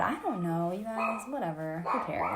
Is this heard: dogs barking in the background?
yes